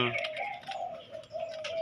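A spotted dove coos in a low, steady, throaty call, fairly close, with faint background noise.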